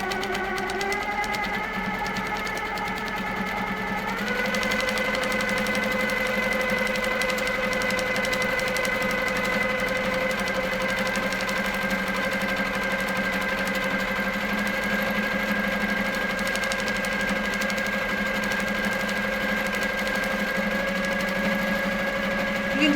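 A quilting machine stitches at a steady pace, its needle drive making a continuous mechanical hum with a brief shift in pitch early on. The sound is close, even and unbroken, with no talking.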